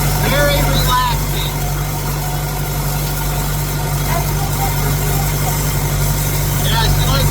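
A tractor raking second-cut hay in a field, its engine holding a steady, loud idling drone from start to finish, with faint other sounds mixed over the hum.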